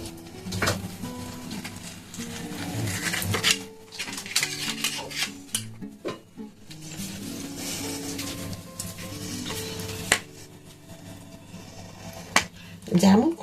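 A knife cuts a peeled mango into pieces, making scattered sharp taps and clicks on a board with quiet pauses in between. A person talks through most of it.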